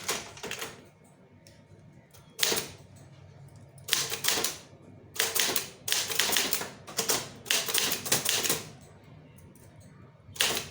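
A letter being typed on a typewriter: bursts of rapid key clacks separated by short pauses, close and crisp, with quieter stretches between runs of typing.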